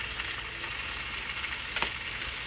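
Philly cheesesteak meat and melting cheese fry on a hot surface with a steady close sizzle, while a spatula gives a brief scraping mix near the end.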